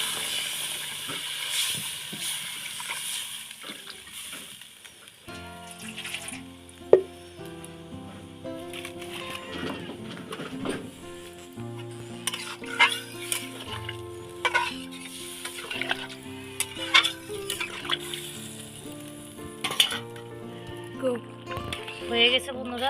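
Chilli paneer frying in a pan, with a steady hiss and sizzle under intermittent stirring clatter, while someone talks over it throughout.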